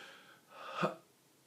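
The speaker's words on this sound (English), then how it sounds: "so I'm going to do a miniature cough." A single short, sharp throat burst, a deliberate miniature cough, alone in a quiet room.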